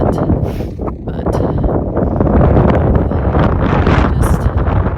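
Strong wind on an exposed granite mountain top along the Appalachian Trail buffets the microphone in loud, gusting rumbles that swell and ease without pause, with no one talking.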